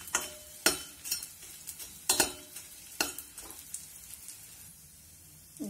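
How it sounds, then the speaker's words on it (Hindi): Laddu ingredients are roasted in a pan over a low flame. A spoon scrapes and stirs with repeated sharp knocks against the metal, and a soft sizzle runs underneath. "इसी वजह से इनको धीमी आंच पे अच्छे से इनको सेक लेंगे।"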